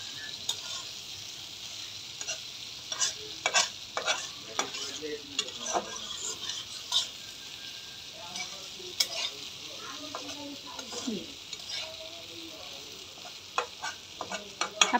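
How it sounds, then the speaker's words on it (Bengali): Fish sizzles and fries in a pan while a utensil stirs it, with steady crackling and irregular scraping taps throughout, close up and without talk. "মাছটাও এর ভিতরে দিয়ে দেব। হালকা একটু মাছও আমি"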